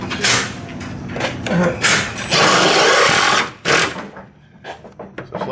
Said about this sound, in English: sometimes you might have to drill it out.